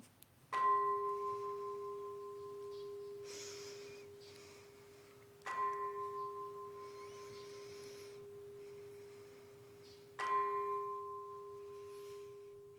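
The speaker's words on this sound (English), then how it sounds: "the sound of the beautiful bell takes us in, deeper into that altar of our heart" A meditation bell is struck three times during a church service, each ring a clear ringing tone with a bright attack that decays slowly under a quiet room hush.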